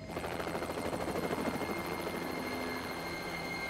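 A helicopter's steady rotor thump and engine roar, loud and continuous, with no voices over it.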